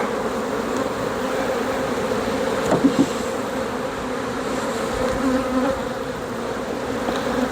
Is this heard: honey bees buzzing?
yes